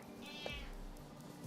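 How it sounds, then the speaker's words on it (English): A pet cat meows once at close range, a short pitched cry standing out over a steady background hum with no talking. "Now listen to my cat."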